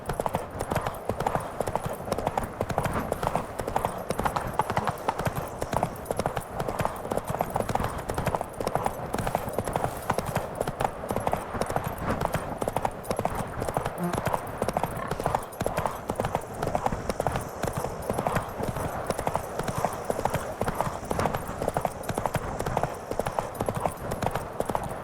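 The horse Roach gallops in The Witcher 3, its hooves beating a fast, steady rhythm that stays loud and close for the whole stretch, with no talking over it.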